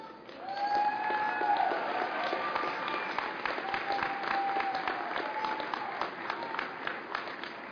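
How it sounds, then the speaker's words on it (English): Sustained audience applause at a 2011 Cleveland State Community College graduation ceremony, a full crowd clapping steadily for several seconds in a large hall, with faint cheering mixed in. "thank them with a hearty round of applause."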